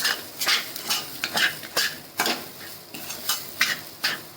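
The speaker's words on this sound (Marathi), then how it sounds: "चांगला पाच मिनटं चांगला परतून घ्यायचा" Cluster bean (gavar) kheema being sautéed in a pan, with repeated scraping strokes of a spatula against the metal at an uneven rhythm over a soft background sizzle, close and fairly loud, no voices.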